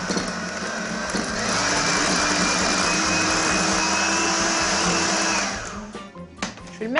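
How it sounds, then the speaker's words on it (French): Mascarpone cheese being whisked with an electric mixer, a loud steady motor whir that rises after the first second, holds, then winds down and stops with a few clicks at the end. "Alors je vais le détendre en continuant à le fouetter."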